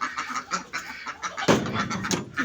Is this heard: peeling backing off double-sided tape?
no